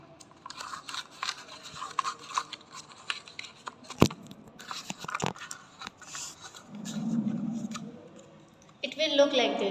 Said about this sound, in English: now cut the ends of it.